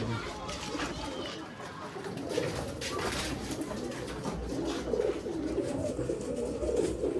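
Pigeons coo softly amid a busy bird dealer's setting in Bangalore, low murmuring calls blending with background chatter and movement, moderately close and continuous.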